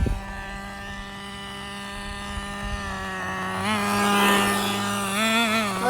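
A small nitro engine in a Traxxas Rustler RC truck screams at high revs, holding a steady whine and then rising and wavering as the throttle is pushed to full, close and loud with no talk.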